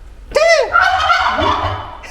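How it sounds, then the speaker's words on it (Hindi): A turkey-like fowl, taken for a chicken, lets out a loud gobbling call, a rapid warbling burst followed by a sustained, wavering cry lasting nearly two seconds, close to the microphone with no talk over it. "ये कौन सा मुर्गी है यार।"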